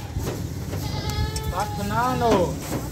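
A Rajanpuri Gulabi goat bleats in a few wavering cries during loading, over a busy background of voices and shuffling, fairly close and moderately loud.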